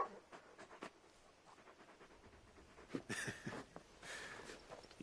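The dog Torgal in Final Fantasy XVI panting in quick rhythmic breaths, faint and close, with a louder stretch of heavier breathing and snuffling toward the end.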